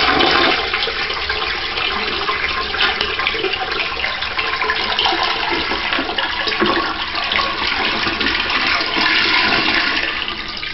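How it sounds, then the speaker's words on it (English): An American Standard toilet in a master bathroom flushes with a loud, close, continuous rush of swirling water that holds steady for about ten seconds before starting to fade, with no talk. "Flushing the American Standard."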